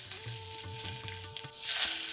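Pounded garlic sizzles in hot oil with spluttering mustard seeds, asafoetida and curry leaves for South Indian rasam, a steady close frying hiss that swells louder near the end, with a tune playing underneath.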